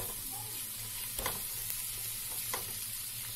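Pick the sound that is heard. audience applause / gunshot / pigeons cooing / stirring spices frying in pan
stirring spices frying in pan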